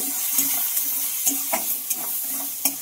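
Onions, tomato and spices frying in a pan with salt and turmeric, a soft constant sizzle broken by a few sharp scraping stirs, close up and alone.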